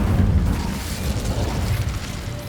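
A Hogwarts Legacy Incendio spell releases a low, rumbling whoosh of fire that swells at the start and then burns steadily, fairly close and alone.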